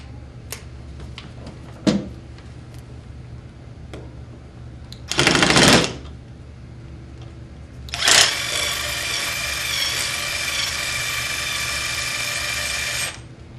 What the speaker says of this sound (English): we'll go with a little bit bigger drill bit